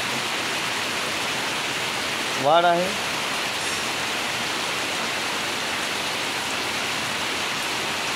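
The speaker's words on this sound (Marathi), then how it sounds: "पाऊस रात्रपासून चालू आहे" Continuous monsoon rain pours down steadily in coastal Konkan, Shrivardhan in Raigad district, a broad, even hiss that stays constant throughout, with a brief spoken phrase partway through.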